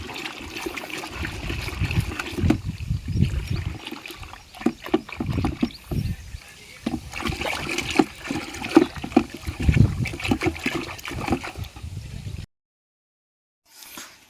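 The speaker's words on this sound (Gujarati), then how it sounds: "આ રીતે એને સરખું ઘમોળી નાખવાનું એટલે એક જગ્યાએ ક્યાંય પીડી ના રહીએ ને પાણી એરે એકદમ રીતે મિક્સ થઈ જાય" Sloshing and swishing of a water-based liquid mixture being stirred in a bucket, irregular splashes continuing for several seconds before abruptly stopping.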